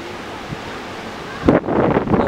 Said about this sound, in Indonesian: inilah suasana di pantai Ngelampur